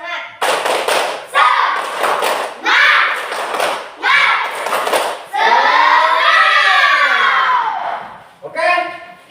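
Children in a classroom perform a rhythmic group clapping chant, loud bursts of unison claps and thumps in short patterned sets alternating with shouted chanting, close and energetic.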